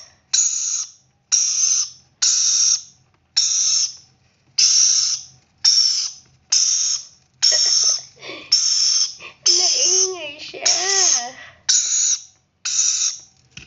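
Hungry baby parrot begging for food with loud, rhythmic raspy calls repeated about every half second, close up, with wavering whistled cries rising and falling near the end.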